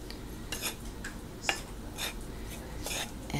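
Self-rising flour and fish fry seasoning are stirred together in a bowl, with soft scraping and intermittent light clinks of a utensil against the bowl, close by and fairly quiet.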